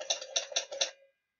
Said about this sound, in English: it should play the sound and then use the typewriter effect to output it